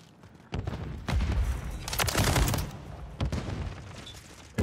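Launcher-like Jak Protean aftermarket gun firing in Modern Warfare 3, heavy booming shots with thuds arriving in irregular bursts, loud and close, with a sustained roar in the middle and no talk.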